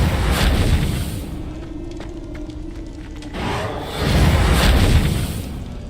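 Reparo repair spell cast in Hogwarts Legacy, a whooshing, rumbling magical surge that swells, dips with faint crackles, then swells again, loud and close.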